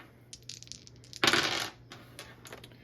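Blackish green dice tumble across a table, a quick burst of bright clattering rattles that rises sharply and settles within half a second, with faint lighter ticks before and after.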